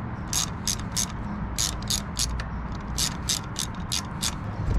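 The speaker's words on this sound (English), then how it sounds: "and I will ratchet it down." A hand ratchet tightens the bolts of an SW-Motech center stand on a Honda CRF1100L Africa Twin motorcycle, giving about a dozen sharp, close clicking strokes in quick groups over a low background hum.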